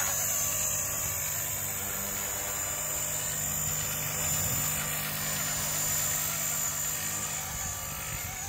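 Helicopter in flight at night, a steady, loud rotor and turbine drone holding evenly throughout with no pauses.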